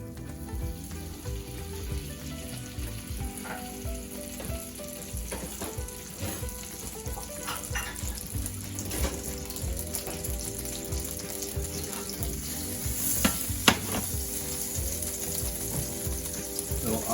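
Butter sizzles steadily in a frying pan as mushrooms fry quickly with a little olive oil or bacon fat, a dense continuous crackle with occasional stirring clinks, close and fairly loud.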